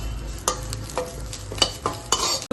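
Curry leaves sauté in a hot pan for chicken, a soft sizzle broken by several sharp scraping stirs of a spoon against the metal, close and without speech.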